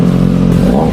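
A superbike engine revs loudly and close, a deep throaty roar rising in pitch over one second.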